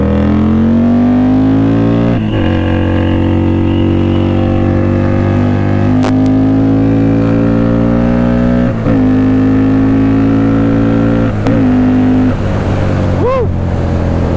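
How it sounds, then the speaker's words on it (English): A custom Indian Scout bobber motorcycle rides off with loud, close engine revving, pitch climbing through several gear shifts with brief dips between them, a sustained powerful roar throughout. "This bike just sounds great, and she is quick."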